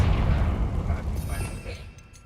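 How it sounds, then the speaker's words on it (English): A Confringo explosion spell goes off in the Hogwarts Legacy video game, a heavy close boom that rumbles and slowly fades over about two seconds. "Revelio. Confringo."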